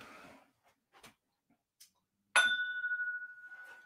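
A whisky glass is fetched, with a few faint clicks and taps, then one bright clink that rings on with a clear fading tone.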